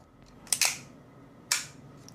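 An Action Army AAP01 airsoft pistol, modified and set to full auto but still firing single, lets off three sharp, snappy shots up close: two in quick succession, then one more after a pause, with no talking.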